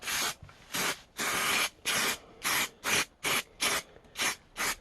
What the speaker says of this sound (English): just spray these pieces along the top there